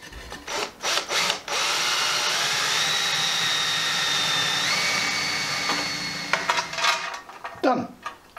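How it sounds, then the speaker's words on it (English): A power drill whines steadily at high speed for several seconds, drilling mounting holes on a cafe scrambler motorcycle, with clatter and short knocks before and after. "line up the holes, drill the holes, and then we can get it mounted."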